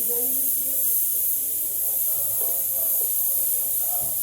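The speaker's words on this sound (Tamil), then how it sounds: "இந்த ஆனியன் வதங்கட்டும்." Onions sautéing in a pan for poori masala give off a steady, close hiss and spray-like sizzle that holds through the whole stretch, with faint talk at points beneath it.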